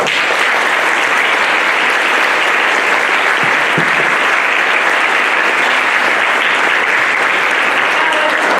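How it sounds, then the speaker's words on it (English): Loud, sustained applause from a school band concert audience, steady clapping filling the whole stretch without a break. "Give them a round of applause, please."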